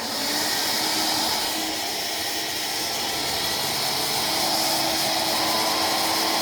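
A WindTunnel Air cordless vacuum cleaner runs with a steady, dense broadband whoosh and a faint motor whine, loud and unbroken throughout without any talk.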